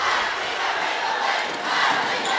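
A student cheer block roars through a high school basketball game, a loud, sustained wall of crowd yelling and chanting that fills the gym without a break.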